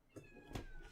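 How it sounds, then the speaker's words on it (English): A kitten meows indoors, giving two short, faint, rising mews about a third of a second apart, with no talking over them. "the kitten will not be quiet."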